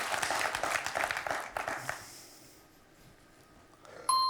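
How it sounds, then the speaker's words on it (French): A studio audience on a French television quiz show applauds a contestant, a dense burst of clapping for about two seconds that thins and fades into quiet before a bright electronic tone sounds at the end. "On applaudit Laurence."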